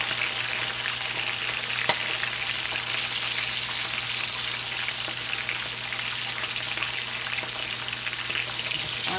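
Bone-in fish frying in hot oil for a Jamaican salt fish meal, a steady, dense crackle and hiss of close sizzling that holds level throughout with occasional sharper pops and no talk.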